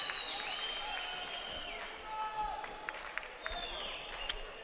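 Crowd at an amateur boxing bout at the 2011 AIBA World championships giving steady applause and murmuring, with a commentator's voice running over it and a few sharper claps.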